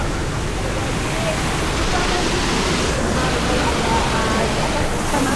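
Steady broadband roar of a waterfall below Lembah Tepus, continuous and fairly loud throughout without a break.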